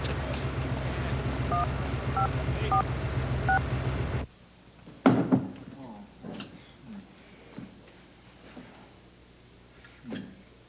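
A telephone keypad dialed in quick succession, a string of distinct beeping tones over a steady background hum, then the line drops to quieter clicks and handling noises.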